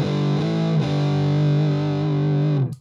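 Electric guitar through a Big Muff Pharaoh fuzz pedal, a dark, heavily distorted sustained chord struck a few times and held for nearly three seconds before cutting off, loud and alone.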